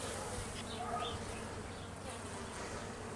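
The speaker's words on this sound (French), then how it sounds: "avoir autant d'abeilles encore en cette époque" Dense, steady buzzing of many bees close by in mid-November, a continuous drone with no pauses and no voices.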